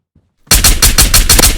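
Rapid automatic gunfire in the Ghosts of Tabor VR shooter: silence, then a loud, sustained burst of close shots in a steady rhythm, with no talk.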